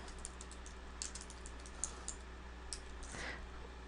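Numbers are typed on a computer keyboard, a quick scattering of light key clicks over a steady low hum, faint and close with nobody talking.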